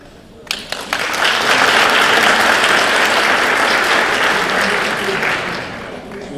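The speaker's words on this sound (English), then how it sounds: "You would have thought Bruce Springsteen or Drake was on stage with that applause." Enthusiastic audience applause at a recognition ceremony, swelling quickly from a few scattered claps into loud, dense, sustained clapping that holds steady before easing slightly at the end.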